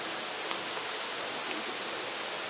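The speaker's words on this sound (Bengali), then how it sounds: "তো দেখতেই পাচ্ছ গাইস বৃষ্টি নেমে গিয়েছে।" Rain falling steadily outdoors during a hot-weather shower over a garden, a dense, even hiss of drops at constant level throughout with a few faint nearby patters and no voices.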